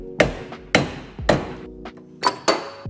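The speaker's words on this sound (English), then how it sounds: "We're gonna get a screwdriver in there, hit that, and prise that out." A hammer strikes a screwdriver wedged behind a Mazda MX5 Miata front hub cap: five sharp metallic blows, roughly evenly spaced with brief ringing after each, close and loud, with no talking.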